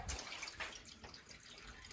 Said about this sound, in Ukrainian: Зараз зілью воду.